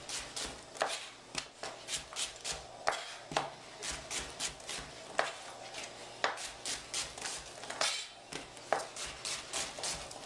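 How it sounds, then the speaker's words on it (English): Onions are sliced into half circles with a knife on a cutting board, producing a quick, steady run of crisp, close chopping taps, with short pauses between bursts. "Now for onions, I'm just going to slice them like this in little half circles."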